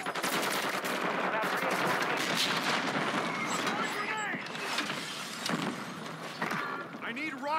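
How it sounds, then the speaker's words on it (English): Heavy mortar fire and explosions in the shooter game Call of Duty Warzone 2.0, with dense rolling blasts and rapid gunfire filling the scene continuously, loud and close, with a radio-style voice briefly heard. "Hostile mortar strike near your position."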